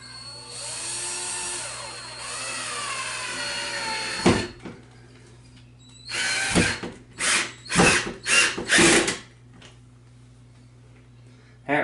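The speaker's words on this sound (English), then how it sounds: "we're going to go ahead and test them with the screws that were provided to make sure I hit stud" A power drill drives screws into a wall stud while hanging an Arctic W1A wall mount, with a long, high whirring run and then several short, loud bursts in quick succession close by, with no talk.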